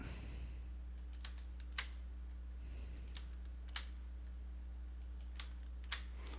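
Sparse clicks from a computer keyboard and mouse sound while an image is dragged around in GIMP, faint and spaced apart over a steady low electrical hum.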